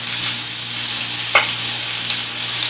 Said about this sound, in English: all the sizzling in the background is going to get on the frying fish